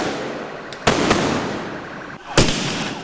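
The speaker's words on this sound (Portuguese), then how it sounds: "Este homem jogou um rojão contra os PMs." A firework rocket thrown at police during a street protest: two sharp, loud bangs with crackling bursts, one near the start and another after a pause, over a noisy crowd backdrop.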